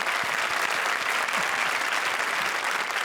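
Loud, dense audience applause on a television comedy show, a continuous roar of many hands clapping close and steady with no speech over it.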